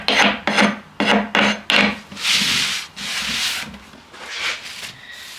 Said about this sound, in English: I'll scrape off what I can, and I want to make sure I'm going with the grain